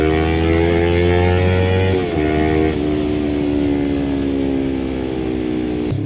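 The engine of a Yamaha R3 V2 sport motorcycle drones steadily, its smooth, loud tone dipping slightly in pitch partway through and continuing alone without voices.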